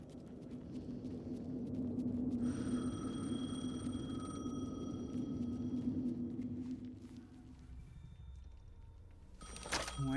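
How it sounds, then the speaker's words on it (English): A telephone rings in Alan Wake II, a faint tonal ring emerging over a low, rumbling ambient drone, with a sharp clatter near the end. "The phone again."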